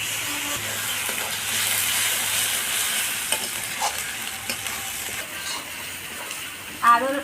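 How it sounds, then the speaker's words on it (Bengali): Ginger and garlic frying in hot oil for a chicken curry, a continuous close sizzle with occasional stirring scrapes and a clack near the end. "এবার এটাকে আমি আদা রসুনটাকে হালকা করে ভেজে নিই"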